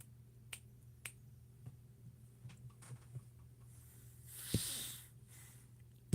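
A handful of faint, sharp finger snaps sound one after another at irregular intervals in a quiet room, followed by a soft breathy rush and a final click.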